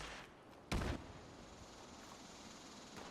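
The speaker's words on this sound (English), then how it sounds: "I hear gunshots somewhere." Distant gunfire in a video game: a single sharp muffled report stands out early, followed by faint, scattered pops under a low ambient background.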